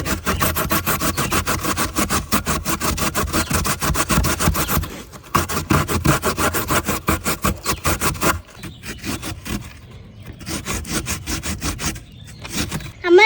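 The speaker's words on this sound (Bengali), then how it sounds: "এবার আমি এই মেশিনটা দিয়ে কুচি কুচি করে নেব তো এবার আমি মিষ্টি কুমড়োটা কুচি কুচি করে নেব" A kitchen chopping machine finely minces sweet pumpkin with rapid, rhythmic mechanical cutting close by, running in long bursts that pause briefly and then resume.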